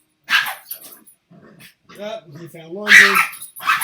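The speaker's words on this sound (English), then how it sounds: "Now I got two crazy dogs." Two dogs indoors give yips and a short growling whine at close range, mixed in with someone speaking, with a louder bark toward the end.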